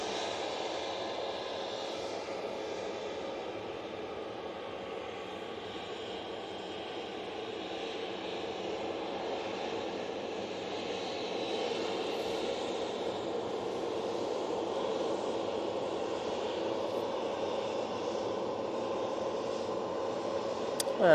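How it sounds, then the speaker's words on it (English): A Helvetic Embraer E190LR jet departs Manchester for Zurich, a steady moderate engine drone with a tonal whine that slowly builds in loudness toward the end, no talk over it. "Embraer's going back to Zurich."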